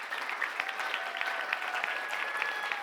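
Dense, steady applause from a school assembly audience, a continuous wash of many hands clapping at moderate distance, with faint voices underneath.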